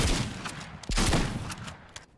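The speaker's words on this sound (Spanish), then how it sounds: "Escopeta de acción de palanca." Lever-action shotgun blasts in Fortnite: a quick cluster of sharp, loud gunfire cracks and booms within two seconds, close and punchy against the game's background.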